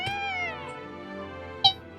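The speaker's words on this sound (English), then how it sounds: "Kitten meows again." A kitten meows once in a long, wavering, high cry close by, followed by a short sharper chirp near the end.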